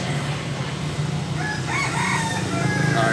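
A rooster crows once, fairly close and clear, over a steady low farmyard background hum, with a few soft clucks from a large fighting cock kept on a farm.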